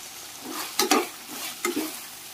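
Bottle gourd pieces with curry leaves, salt and turmeric are stirred in a hot pan, giving two distinct scraping strokes over a soft, steady sizzle.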